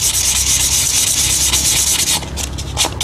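Fine sandpaper rubs back and forth on a rice cooker magnet in a loud, close, continuous scratchy hiss, breaking into separate quick strokes near the end.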